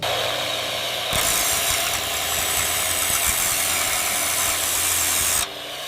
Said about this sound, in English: Got it, hitting it with the drill now.